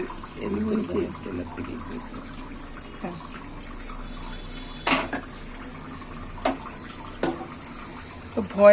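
Liquid is poured into a hot cooking pot of chicken curry with raw jackfruit, a fairly faint, steady pour with a few sharper splashes, heard under people talking nearby.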